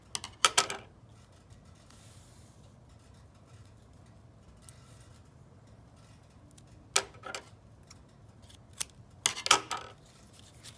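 Scissors cutting brown paper into quarters for a quilling craft, a few quick crisp snips in short clusters separated by quiet pauses, close and clear.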